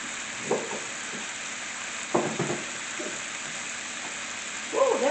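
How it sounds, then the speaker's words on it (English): Shrimp and salmon sizzling in a hot pan, a steady close crackle of frying with a few brief louder bursts of stirring or movement. "Just listen to that nice sound of sizzling."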